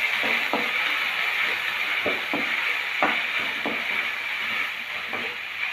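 Onions and tomato sizzling and frying in a pan for a radish palya, with a steady bright hiss throughout and several soft stirring scrapes and clicks of a spoon against the pan, close and alone.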